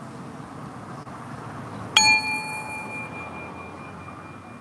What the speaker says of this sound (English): Now we're going to do another bell for our lovely friend here, Nyx.